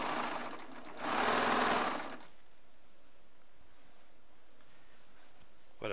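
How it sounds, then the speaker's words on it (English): A Baby Lock Triumph serger sewing charm squares runs in a close, quick whirring burst of about a second, then stops, leaving a quiet room with a brief click at the end. "pieces on my baby lock Triumph Serger"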